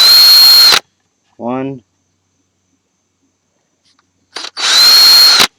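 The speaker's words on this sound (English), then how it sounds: "we're going to drill a pilot hole in the middle of all these 4" A power drill drilling pilot holes in a PlayStation 2 case whirs in two loud, short bursts separated by silence, with a voice speaking briefly in the gap.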